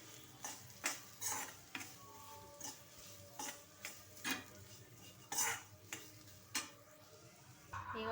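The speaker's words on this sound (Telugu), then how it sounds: "పచ్చి కొబ్బరి కూడా వేసి కొంచెం పోయేంత వరకు, స్మెల్ పోయేంత వరకు ఇది మొత్తం మనం వేయించేసుకోవాలి." Grated fresh coconut being stir-fried in a pan on low heat, a spoon scraping and clinking against the metal in repeated irregular strokes, with faint sizzling underneath, close up and no talking.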